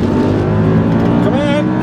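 A 2012 Audi R8 accelerating hard from a standstill at high altitude, loud continuous engine roar with a rising note near the end, with people talking excitedly over it.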